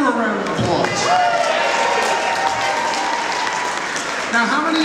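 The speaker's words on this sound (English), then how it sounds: "Give her a round of applause." An audience bursts into dense, steady applause that fills the whole stretch, loud and close, with a voice briefly audible over the clapping.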